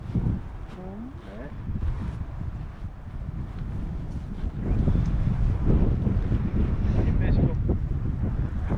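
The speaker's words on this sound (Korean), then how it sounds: "바람이 좀 불고 있고요" Wind gusting across an open golf course, a steady broadband roar buffeting the microphone and growing stronger partway through, with people talking faintly underneath.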